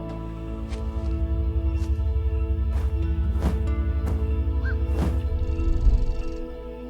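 Many birds call over a steady low drone from a roost in a cypress dome, with repeated harsh caws rising above a dense, continuous chorus at moderate distance.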